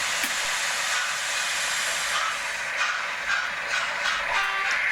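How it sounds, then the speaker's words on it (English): An HST train rumbles past with a loud, steady broadband hiss and rushing noise, continuous throughout without voices. "listen to the HST going on its way, and listen for the locomotive or the 101 starting up"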